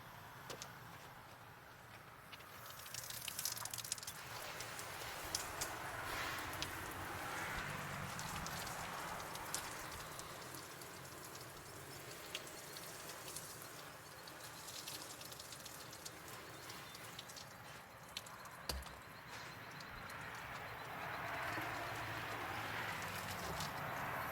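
Water from a hose hisses steadily and sprays across a car's paint during a rinse after sealant testing, a broad continuous wash that swells and eases, heard up close outdoors without talk.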